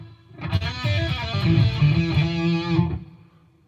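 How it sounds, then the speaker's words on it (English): Electric guitar chord through a Headrush unit rings out with a lush medium plate reverb tail, tone and mix turned down, sustaining smoothly for a few seconds before fading away. "let's check and see what the reverb sounds like"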